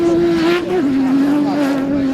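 Off-road race car rounding a top berm at the Goodwood Festival of Speed 2022, a loud, close engine holding a steady high note with a brief dip in pitch, with commentary over it.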